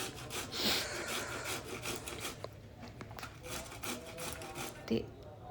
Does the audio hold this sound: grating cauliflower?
yes